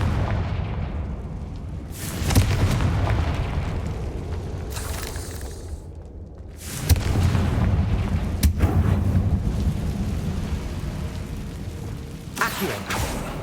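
Fiery blasting-curse explosions go off in the Hogwarts Legacy video game, several heavy booming bursts with rumbling decay, spaced a few seconds apart over a continuous low background.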